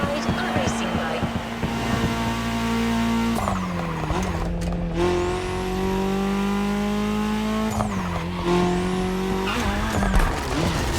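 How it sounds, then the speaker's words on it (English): A racing bike engine in the video game The Crew Motorfest drones loudly and continuously, pitch rising through gears with abrupt drops at shifts; speech runs over it. "We start quietly, and I use big quotation marks, with a little warm-up ride on a racing bike."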